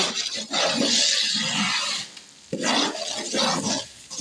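Flour and fennel seeds frying in ghee while a spoon stirs, giving a steady sizzle with scraping strokes that pause briefly midway, close and fairly loud.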